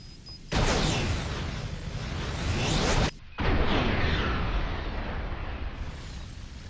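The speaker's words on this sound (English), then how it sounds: "Yeah, quite an explosion if you stack them like that." Stacked explosives detonating in Resident Evil 7: Biohazard, a huge roaring blast that sustains for seconds, cuts off briefly, then rumbles on loud and dense with no talk.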